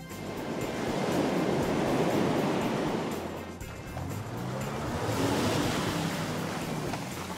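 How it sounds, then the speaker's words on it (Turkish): Waves slap and surge on choppy water beside a pool area, a steady loud wash of surf with gusting wind noise across the microphone and no talk. "Bugün su çok dalgalı."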